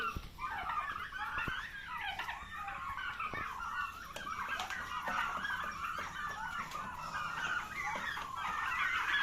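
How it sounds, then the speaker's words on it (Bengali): A flock of about forty chickens on a turkey farm near Sona Masjid clucks and chatters continuously at moderate distance, with occasional louder calls over a steady background. "প্রায় চল্লিশটা মুরগি আছে"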